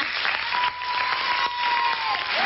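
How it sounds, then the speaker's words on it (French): Applause from a studio audience at a French fan conference show, a steady, dense wash of many hands clapping close and loud, continuing without pause. "On peut les applaudir."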